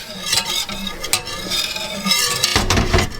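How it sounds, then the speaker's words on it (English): Cream stirred in a pan on the stove with a spoon, giving a loud, continuous swishing scrape under a faint sizzle, with the strokes repeating steadily throughout. "Now keep stirring this until it thickens."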